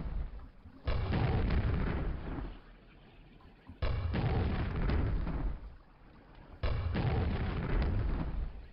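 Three heavy, roaring explosions go off in the classic shooter Quake on Nightmare difficulty, each a loud booming blast lasting about two seconds and separated by short quieter gaps, with no talking.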